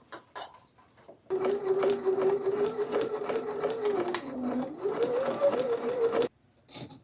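A sewing machine stitches fabric for a Christmas stocking in one steady, close-up whirring run of about five seconds, its motor pitch dipping briefly mid-run before rising again, with quiet pauses before and after.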